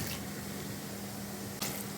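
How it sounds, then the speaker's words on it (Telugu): Water poured into a pot over brinjal and tomato pieces with green chilli and tamarind, a short steady gush with a faint splash near the end and no talk. "దానికి సరిపడా కొద్దిగా పైకి వచ్చి మునిగేదాకా నీళ్ళు పోసుకోవాలి"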